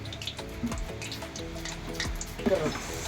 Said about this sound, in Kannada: ಇವಾಗ ಕರಿಬೇವು ಫ್ರೈ ಮಾಡ್ಕೊಳ್ಳೋಣ